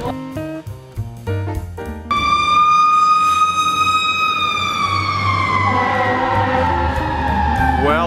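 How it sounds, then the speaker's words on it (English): Emergency vehicle sirens wail through a downtown street in Provo, a loud rising and falling tone taking over after a stretch of music and lingering close by with traffic rumble beneath. "it does give you a New York feel to be in downtown Provo with all the sirens"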